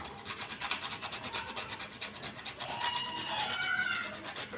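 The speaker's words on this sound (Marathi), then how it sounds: "बारीक गॅसवरच आपण थोडे जायफळ पण किसून टाकू" Nutmeg grated for puran poli filling, a steady dry rasping scrape repeated in quick strokes, close and moderately loud with no talk.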